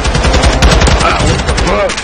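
Rapid gunfire from Call of Duty: Modern Warfare 2, a shotgun among it, crackling loud and close in a dense, continuous volley over two seconds, with a faint voice buried in the mix.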